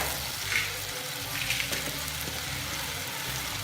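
Shallots frying in a pan for a Nagercoil-style ulli puli pachadi, a steady close sizzle with faint stirring scrapes and no voices.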